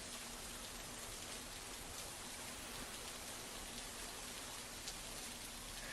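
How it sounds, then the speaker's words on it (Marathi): Heavy rain pours steadily over Akkalkot taluka in Solapur district, a dense, unbroken hiss of downpour drumming on surfaces with no voices, holding at an even level from start to finish. "अक्कलकोटला पावसानं झोडपलं"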